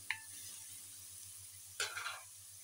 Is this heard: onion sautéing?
yes